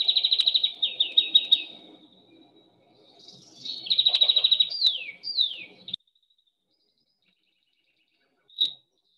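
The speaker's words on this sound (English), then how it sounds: "So the next one is the greenfinch, and greenfinch is a lovely sound, actually. It's a twittering sound." Greenfinch song, a bright twittering of rapid repeated chirps and trills in two bursts separated by a pause, followed by a single short call after a silence, with no voices.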